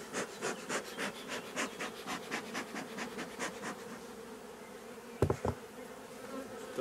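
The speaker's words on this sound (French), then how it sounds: "Déjà il y a plein d'abeilles." Honey bees hum and buzz around an opened beehive during a honey harvest, a close, pulsing drone that swells and dips in rhythm, broken once by a brief knock of wood.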